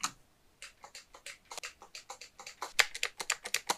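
Steady presses on a Bluetooth computer keyboard, a rapid series of crisp, close clicks in an uneven rhythm, growing slightly louder toward the end, with no voices.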